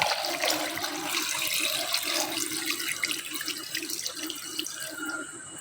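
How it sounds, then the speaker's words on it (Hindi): Water pours steadily into a pot of mutton curry gravy, a continuous splashing stream of two glassfuls with no talk over it. "ये 2 गिलास मैं पानी डाल रही हूँ इसमें।"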